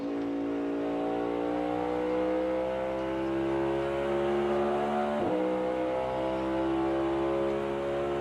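NASCAR race car in qualifying at the Enjoy Illinois 300, driven hard into a corner and then back on the throttle, its engine roaring loud and continuous, with rising revs and a brief shift-like dip midway.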